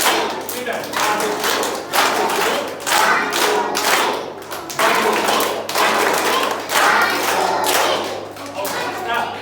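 Schoolchildren in a classroom clap together in repeated bursts of three, sharp and loud, with short pauses between groups and some voices mixed in.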